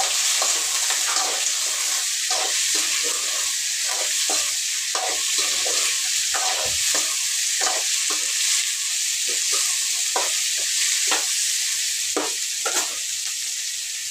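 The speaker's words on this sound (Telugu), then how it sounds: "ఇలాగే సిమ్లో పెట్టి వేయించుకోవాలి." Ivy gourd fry sizzling steadily in a pan on a low flame, with a spatula stirring it in repeated scraping strokes over the constant hiss, close and moderately loud.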